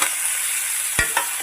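Chopped tomato dropped into onions frying with turmeric and salt in a pan, giving a steady close sizzle with a couple of brief stirring thumps.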